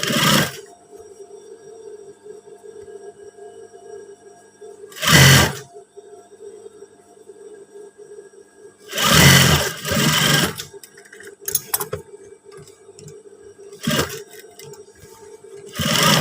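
Industrial sewing machine stitching a trouser back pocket flap, running in several loud, sustained bursts separated by quieter pauses with a low steady hum between runs.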